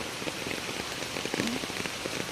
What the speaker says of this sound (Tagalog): Ulan gid siya as in. As in gid siya ulan.